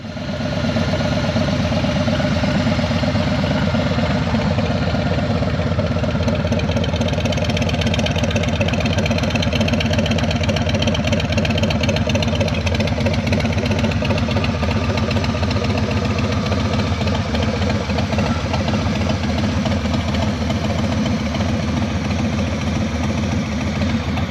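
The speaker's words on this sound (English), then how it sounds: "So obviously from the short clip, and as we all know, the pipes are pointed backwards, and that is which way the sound is going." A motorcycle engine idles steadily through loud exhaust pipes. It gives a continuous, even rumble, loud and close, with no change in pace and no voices.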